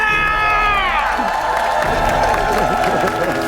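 Studio audience on a Korean TV talent show cheering with shouts and whoops over applause, loud and sustained, with voices calling out across the crowd.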